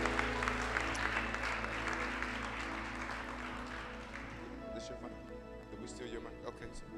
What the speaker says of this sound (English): Come on and clap to the Lord one more time